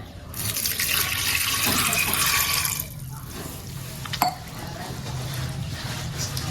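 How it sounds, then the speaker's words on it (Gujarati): A glass of water is poured into a pressure cooker for boiling green pigeon peas, giving a steady splashing rush that stops abruptly, followed by a sharp metallic clink and quiet room tone. "એક ગ્લાસ પાણી આપણે નાખી દીધું છે"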